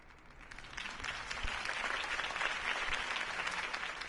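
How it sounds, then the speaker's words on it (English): A video game crowd claps steadily, building slightly and holding at a moderate level, heard from a distance with no voices on top. "could have heard that applause"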